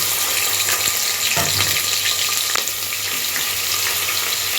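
Sliced onions and kasuri methi frying in oil, a steady loud hiss and sizzle with occasional sharper crackles and a brief stir, no talking.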